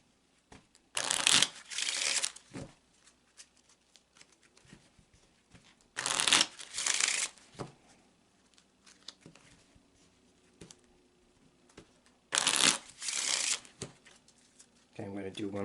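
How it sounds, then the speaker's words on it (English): A deck of playing cards is shuffled close up in three separate bursts of quick riffling flutter, with soft handling sounds and brief speech between them. "let's take the cards in hand and shuffle that question into the cards."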